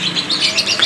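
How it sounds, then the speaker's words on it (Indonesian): A sunbird (sogon) chirps rapidly, with quick high twittering notes in a continuous burst, close and fairly loud, with no voices. "Itu metalik biasanya sering ngeriwiknya ketimbang yang hijauan."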